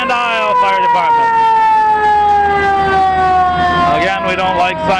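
Fire truck siren wailing in a Fourth of July parade in Alburgh, with steady loud wailing tones that rise and fall over the full stretch and crowd noise underneath.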